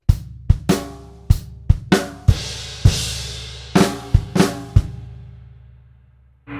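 Drum kit plays bars 7 and 8 from a grade 4 rock lesson: about a dozen close, sharp hits of kick, snare and crashing cymbals in a driving rhythm, the last cymbal ringing out, no voices.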